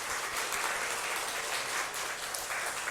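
Congregational applause during a church service, a fairly quiet but continuous patter of many people clapping together, heard from some distance.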